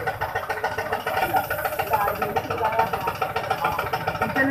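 A modified 2019 FX model motorcycle idles with a steady, rumbling engine tone that carries loudly through the whole stretch, with voices in the background.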